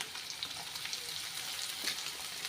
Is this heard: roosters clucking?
no